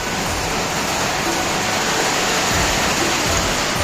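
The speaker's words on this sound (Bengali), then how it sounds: "সেই সাথে টিনের আওয়াজ, রিমঝিম বৃষ্টি।" Heavy rain pours steadily on a tin roof during a rainy day in a village in Saudi Arabia, a dense, continuous hiss and patter close by with no voices.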